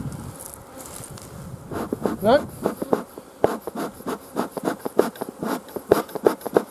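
Honey bees buzz around an open hive, a close, steady drone mixed with scratchy rustling and light knocks as a voice speaks briefly.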